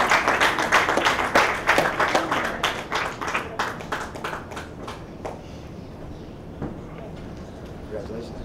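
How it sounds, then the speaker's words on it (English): Audience applause at a film festival awards ceremony, a dense burst of clapping that starts loud and full, then thins into scattered claps and fades over several seconds. "Let's keep clapping until he makes it here."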